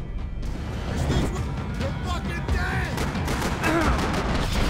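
Dense gunfire from the shooter game Max Payne 3, bursts and impacts layered over music and game noise throughout, with a voice talking over it.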